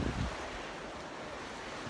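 A swollen river in flood near Granada rushes past with a constant, close roar of churning water, a brief louder surge at the start, then a steady wash of noise with no talking.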